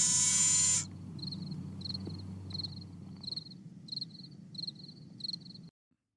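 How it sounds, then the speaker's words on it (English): A fake cricket sound effect chirps in evenly spaced, repeated bursts, about eight in a row, over a low background hum, after a louder opening noise cuts off. "Fake cricket sound effects"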